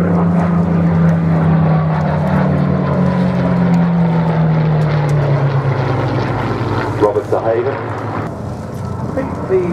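A Grumman Wildcat propeller fighter flies past at the Duxford Flying Legends 2018 airshow, its radial engine droning loud and steady throughout, the tone sliding lower as it passes, with commentary talking over it.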